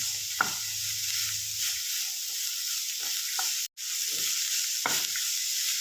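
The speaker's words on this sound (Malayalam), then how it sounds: "ഇനി ഇത് നല്ലപോലെ നമുക്കൊന്ന് ഇളക്കി വെക്കാം." A spring onion stalk stir-fry with onion and salt is stirred in a pan, with a steady high sizzle throughout and a few distinct spoon scrapes and taps against the pan, near and alone.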